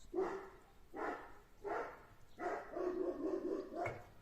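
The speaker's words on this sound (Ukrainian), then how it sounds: "А він залаяв" A dog barks in separate bursts, three single barks followed by a longer run of yappy barking, moderately close with no talking.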